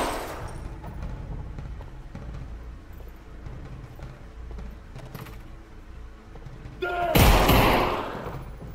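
Gunfire in the shooting video game Gunman Contracts: a dense, continuous rumble of shots and bursts, swelling into a loud blast near the end, with in-game ambience.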